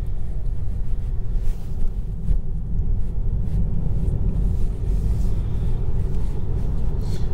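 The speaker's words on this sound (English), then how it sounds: "I can hear something diesel off to my side as he goes through his gears and his rev ranges" A diesel car accelerates through its gears off to one side, a low rumbling engine drone with shifting rev ranges, steady and moderately loud, with some wind buffeting.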